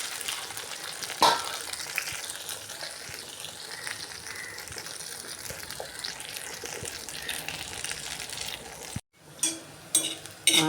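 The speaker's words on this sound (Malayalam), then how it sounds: "കുറച്ച് വീതം കോവയ്ക്ക നമുക്ക് വറുത്ത് കോരി എടുക്കാം." Ivy gourd pieces fry in hot oil over a low flame with a steady, close sizzle and occasional stirring. Near the end the sizzle cuts out briefly, then returns with a few sharper clatters. No one speaks.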